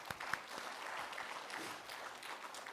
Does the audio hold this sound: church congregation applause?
yes